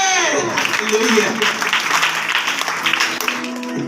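A church congregation claps together in an ongoing round of applause during a Hindi worship service, a steady dense patter heard close and fairly loud, with a voice speaking over it.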